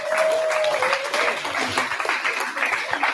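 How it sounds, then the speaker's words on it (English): An audience at the Queensland Open Boulder Titles finals applauds steadily, a full, lively round of clapping with a brief whistle at the start. "A big round of applause for Susan, our jury president, working tirelessly this weekend."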